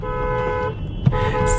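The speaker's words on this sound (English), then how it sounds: "Why are you honking?" A car horn honks in one sustained blare with steady tonal harmonics, sounding close by in a car traveling around Europe, followed by a brief knock and road rumble, no voices.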